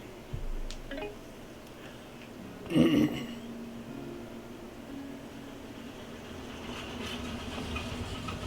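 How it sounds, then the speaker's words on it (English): A train in the video game Hokko Life rumbles softly in the background, with a louder clanking burst midway and faint scattered clicks, all fairly quiet and steady. "They did such an amazing job with this train and the sound effects."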